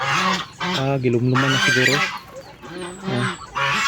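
Ducks honk repeatedly nearby in loud, nasal calls that come in uneven clusters, while a person speaks briefly over them.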